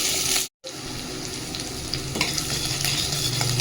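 Cucumber, carrot, green chilli, ginger and curry leaves dropped into a hot pan fry with a loud, continuous sizzle and stirring scrapes, a short gap early on, no voices.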